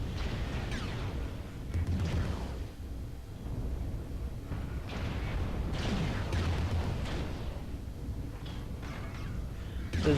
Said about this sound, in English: This is just one big whirling firefight.